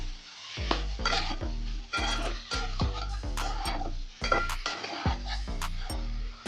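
A spoon stirs rui fish curry with turmeric and salt in a pan, giving repeated clinks and scrapes against the metal over a low sizzle, close and busy throughout.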